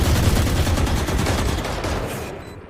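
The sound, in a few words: gunfire in a video game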